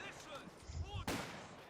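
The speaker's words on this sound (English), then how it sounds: "Another grenade there." Grenade blast in Company of Heroes 2, a 1v1 match, with a sudden sharp explosive crack partway through amid battlefield game noise and background gunfire.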